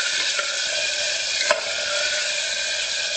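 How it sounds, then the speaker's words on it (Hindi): Finely chopped medium tomato and lightly fried potato sizzle steadily in a hot pan, a loud continuous fry with a couple of brief stirring clicks, no talk. "अब हम इसमें डालेंगे एक मीडियम साइज का टमाटर बारीक कटा हुआ। इसको भी हल्का सा भून लेंगे।"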